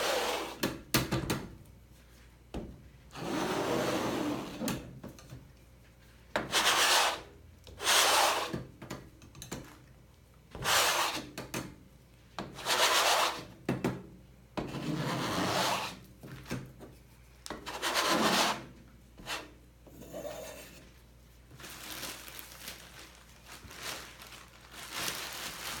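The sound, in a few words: scraping acrylic paint off a surface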